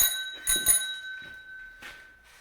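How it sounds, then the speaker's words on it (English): Bicycle bell on a bike in East Vancouver rung a few times nearby, bright metallic dings with ringing tails that fade out, no speech. "Does the bell work?"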